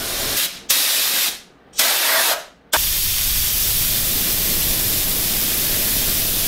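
Tormach mist coolant sprayer with an adjustable air pressure regulator, hissing loudly in short bursts that stop and restart twice before settling into a steady, continuous spray close by.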